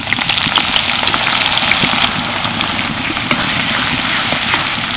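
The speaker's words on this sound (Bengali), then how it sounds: "পেঁয়াজটা ভালো করে ভেজে নেব।" Chopped onions fry in hot oil in a kadai over whole cardamom, cloves and cinnamon, giving a steady, close, dense sizzle and crackle that runs evenly throughout with no talking.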